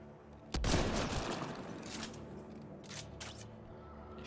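Gunfire in the sci-fi shooter Mass Effect Andromeda: a sharp loud burst of shots opens, followed by a dense rattle of fire that thins out, with a few more scattered reports near the end.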